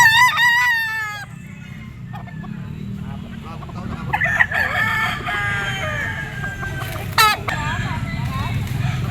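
A gray green-legged bull stag rooster crows in repeated bursts, with more crowing and clucking from other fowl around it, close and loud amid background chatter.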